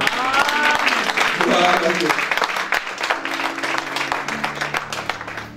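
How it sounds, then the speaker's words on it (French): A church congregation bursts into loud applause and cheering, crowd voices mixed in, with the clapping fading over a few seconds as a voice continues. "Est-ce que quelqu'un peut acclamer pour le Seigneur?"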